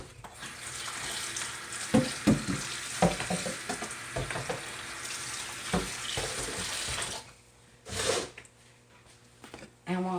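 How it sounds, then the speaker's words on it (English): A house plant is watered, water trickling and splashing into soil for several seconds amid small handling knocks, then the pouring stops near the end leaving quieter taps. "Okay, just a little water for this one."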